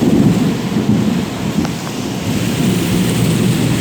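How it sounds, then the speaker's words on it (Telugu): Thunder rumbling through a heavy rainstorm with strong wind, a low sustained roll beneath the dense, steady hiss of pouring rain. "పిడుగు పడుతుంది గైస్."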